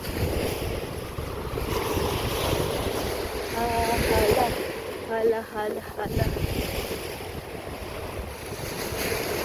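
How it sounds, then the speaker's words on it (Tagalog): Steady wind gusting at the shore on Coron, Palawan, Philippines, with surf washing in the background, while voices talk briefly in the middle. "Mahangin siya pero wala nang ulan."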